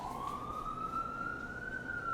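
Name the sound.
police car sirens outside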